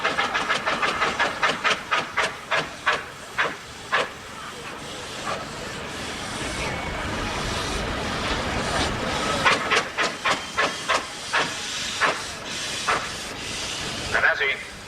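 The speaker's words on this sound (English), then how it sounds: "And as he puts the steam on, the thing is bucking and moving and twisting and lifting." A steam traction engine at a 1997 rally puffs rhythmic bursts of steam, sharp hissing chuffs repeating loudly and close, slowing then quickening again, with people talking faintly in the background.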